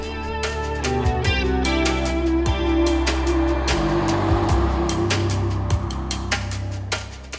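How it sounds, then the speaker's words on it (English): A Volvo V90 Cross Country with the top diesel D5 engine, 173 kW and all-wheel drive, heard driving as a steady low engine drone with repeated clicks and thumps over it, close and continuous. "We're testing the most powerful diesel D5 Pro with an output of 173 kilowatts."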